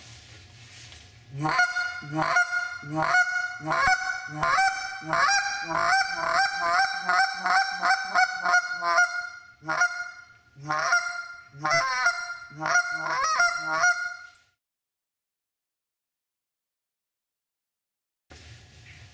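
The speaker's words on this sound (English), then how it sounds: "that's all just speeding up that honk" A goose call honks repeatedly, starting spaced out and speeding into rapid honks, then a few final honks before silence.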